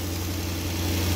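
A 2007 Maserati Quattroporte 4.2L V8 idles steadily just after a cold start, a low, even hum with faint mechanical rattle, close and unbroken.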